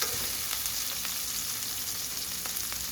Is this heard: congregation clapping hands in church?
no